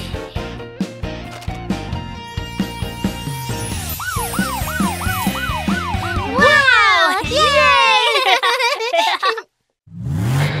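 A police car siren in a children's cartoon wails in rising and falling sweeps, loud and close, following playful musical notes and mixing with cartoon voices before a brief silence.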